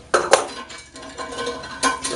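Toilet tank handle nut being loosened and removed, a few sharp metallic clinks and light clattering knocks at close range, spaced irregularly over a quiet background.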